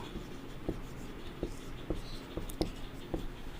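Chalk or marker writing on a board while a maths problem is worked out, heard as a series of faint, regular tapping strokes about every half second over quiet room tone.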